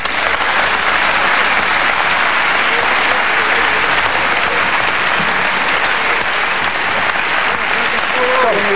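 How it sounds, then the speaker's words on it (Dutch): Dense, steady applause from a large theatre audience at Carré in Amsterdam fills the whole stretch, loud and continuous with voices murmuring faintly underneath. "Mag ik uw applaus voor de aannemer die Carré zal gaan verbouwen"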